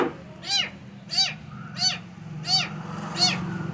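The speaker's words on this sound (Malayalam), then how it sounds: "എനിക്കൊരു പൂച്ചക്കുഞ്ഞിനെ കിട്ടി ഗൈസ്" A small kitten meows five times in a steady, evenly spaced series, each call a short rising-falling cry, close by over faint background noise.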